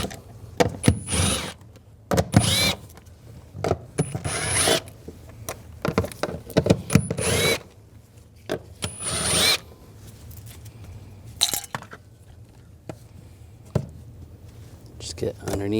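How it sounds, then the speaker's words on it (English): Bolts on a Mercedes-Benz E350 sedan with a 3.5L V6 being backed out with an 8mm socket, quick ratcheting bursts and metallic clicks in irregular clusters, close and fairly loud, under bits of talk. "Using a 8mm socket, we're just going to take these bolts out."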